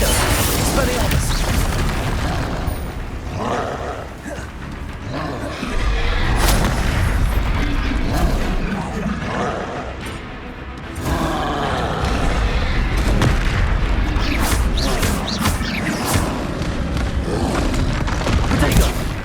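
Bombarda and other combat spells exploding in the video game Hogwarts Legacy: dense, continuous booms and crashes with sharp impacts throughout, loud and cluttered, while character voices call out incantations.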